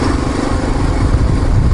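An off-road motorcycle engine drones steadily and loudly close by during a ride, a continuous rough rumble with wind noise and no speech.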